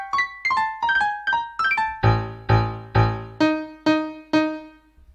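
Piano-like notes generated from typed text by a Python script and played through Pianoteq, a quick run of separate struck tones followed by steady repeated lower chords, close and alone.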